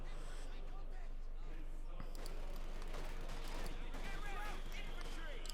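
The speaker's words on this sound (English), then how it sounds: "A lot of mortar fire there from Karl's mortar" Mortar and gunfire bursts from the Company of Heroes 2 battle game, repeated distant thumps and crackles under steady commentary talk.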